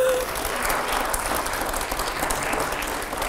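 An audience at a televised rapid-fire interview with a guest breaks into steady, dense applause for the full length, with a voice briefly audible near the start.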